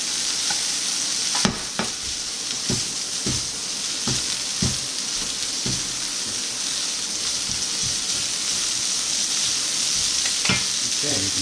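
Pre-cooked pasta and green beans fry in a hot pan for a chicken parm dish, a steady close sizzle broken by repeated sharp stirring scrapes and clacks, no voices.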